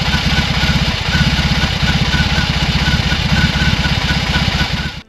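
A BMW R18 Classic cruiser motorcycle idles close by, its big engine thumping in a steady, even rhythm of low power pulses throughout, with no talking.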